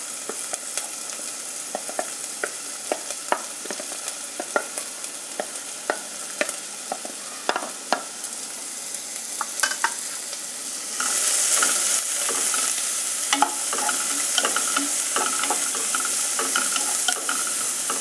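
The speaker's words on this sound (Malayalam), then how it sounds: "രണ്ട് മിനിറ്റ് ഇങ്ങനെ വഴറ്റുക." Chopped onion sautéing in a pan for chickpea masala, a continuous close frying sizzle broken by frequent spatula stirs and scrapes, growing louder partway through.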